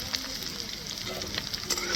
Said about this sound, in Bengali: আর একটু আলুটাকে ভেজে নিব